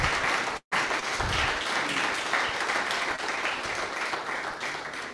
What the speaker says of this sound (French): Mesdames et messieurs, je vous prie de l'applaudir encore une fois.